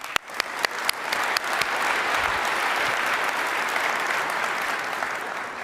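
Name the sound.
audience applause for industry leaders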